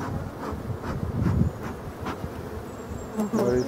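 Honeybees of a forest apiary buzzing around an opened hive during a spring super placement: a steady, fairly quiet swarm drone with individual bees passing close, no talk.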